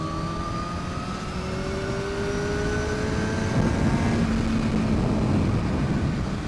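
A 2009 Kawasaki Ninja ZX-10R motorcycle accelerates gently in sixth gear, a steady engine drone with a slowly rising whine under heavy wind rush, heard from the rider's position with no talking.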